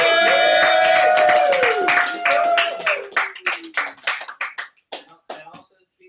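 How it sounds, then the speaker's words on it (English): A live comedy show audience claps loudly at first over a held musical tone, then the applause thins into scattered individual claps that fade out. "please clap for him a whole bunch because it's his 10th performance"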